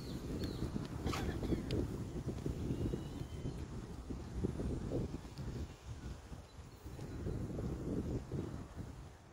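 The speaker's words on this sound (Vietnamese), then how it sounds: "Gió lồng lộng luôn cả nhà." Strong wind buffeting the microphone beside Almaden Lake in San Jose, a steady loud low rumble with gusty swells throughout, with no voices.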